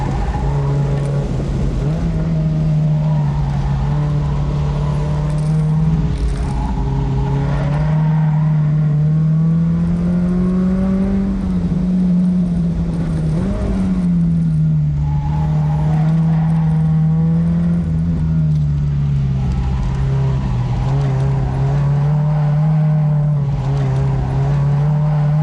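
An Ecotec-swapped Mazda Miata laps a race track on a track day, its engine droning loudly and continuously from on board, with pitch rising and falling through acceleration and shifts and no one speaking.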